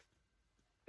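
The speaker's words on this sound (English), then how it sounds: "Oh, I sneezed again." A single sharp human sneeze bursts out at the very end after near silence, loud and close, made while cutting freshly ironed fabric for a quilt block.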